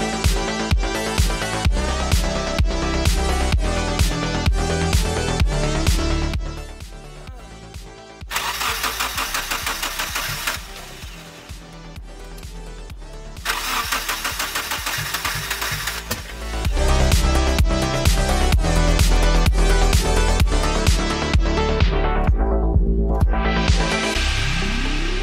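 Starter cranking on a 1994 Nissan Sentra coupe long parked in a backyard: loud rhythmic chugging bursts in repeated attempts separated by brief pauses, close up with no talk.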